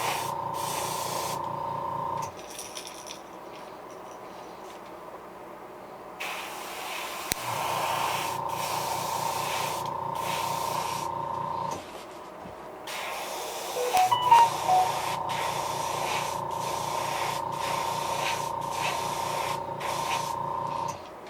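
An airbrush sprays paint onto a custom Creek Chub fishing lure to lay a lateral line, a steady close hiss with a compressor hum cutting in and out in long stretches.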